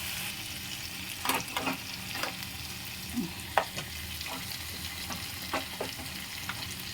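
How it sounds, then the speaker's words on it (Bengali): Marinated meat with yogurt sizzles quietly in a pan while a spoon stirs it, giving a soft steady frying hiss broken by scattered scraping clicks. "এরপর কিন্তু আমরা যে ম্যারিনেট করা মাংসটা ছিল সেটা দিয়ে দেবো।"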